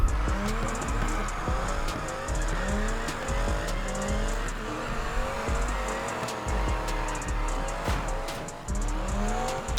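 Car drifting in Need for Speed Heat, a continuous engine roar rising and falling through repeated shifts, with tire squeal running throughout at a steady loud level and no talk.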